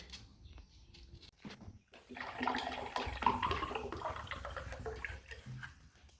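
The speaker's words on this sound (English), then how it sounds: "Let's add in water" Water is poured into a blender jar with beetroot for juice, a soft splashing flow that swells and continues steadily at close range, fairly quiet.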